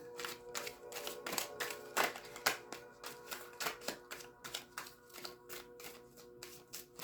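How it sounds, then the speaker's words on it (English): Tarot cards being shuffled, a quick series of soft riffling snaps and taps in an irregular rhythm, close and quiet. "let me get this three-way split in for you and a good shuffle"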